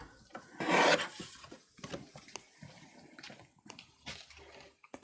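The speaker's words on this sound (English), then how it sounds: "I'm going to trim about 1/2 inch off the bottom of this" Paper card being trimmed by hand during card making, with a loud cutting or scraping burst near the start followed by quieter scattered rustles and small taps, close up, no voice.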